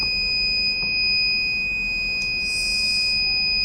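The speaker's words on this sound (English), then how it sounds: "So here we can see buzzer alerts." Buzzer alert from an Arduino UNO battery management system with charger monitoring and fire protection, sounding as steady high electronic tones held through the whole stretch over a faint low hum.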